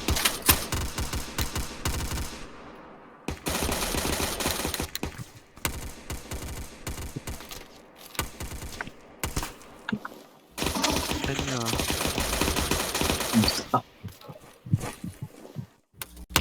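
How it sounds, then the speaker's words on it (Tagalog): Bursts of gunfire and machine gun shots during a Philippine Army armor deployment in Southern Mindanao, rapid rattling volleys and single cracks that come in loud clusters separated by short pauses, with voices calling out between them. "We have contact. Shots fired."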